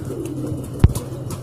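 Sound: pigeons cooing at pigeon loft

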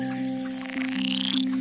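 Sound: frogs croaking

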